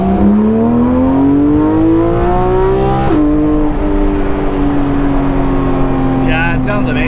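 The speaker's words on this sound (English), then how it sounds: "it sounds like an exhaust system, like an aftermarket exhaust system" A Porsche GT3 RS fitted with an MBRP aftermarket exhaust roars loudly and close, its engine pitch climbing through a gear, dropping sharply at a shift, then carrying on with a steady snarling drone.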